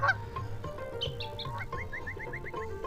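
Cartoonish duck quacks from the Bangladeshi video game Meena 2, a run of short, repeated honking calls in quick rhythmic bursts over a steady game soundtrack, with no talking.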